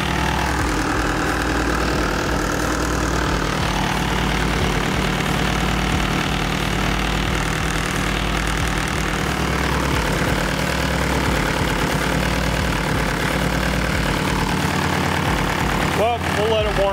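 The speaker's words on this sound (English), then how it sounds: "What the hell that vibration is." A car engine fitted with a Piper cam idles while warming up, giving a loud, steady, close rumble with a lumpy, vibrating pulse that continues throughout.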